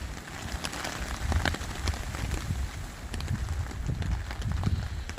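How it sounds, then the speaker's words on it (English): Heavy rain patters steadily on a tarp at a woodland hammock camp as strong wind gusts roar through the trees in broad, rising surges, loud and close without pause. "the wind is starting to pick up now"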